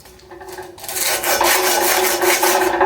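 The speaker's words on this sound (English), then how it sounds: "Wrap the sandpaper around it. It basically makes a flat block." Sandpaper wrapped around a flat piece of 2x4 rubs back and forth over a powder-coated bike frame, a steady loud rasping scrape that builds after a quieter start and keeps a rhythmic stroke throughout.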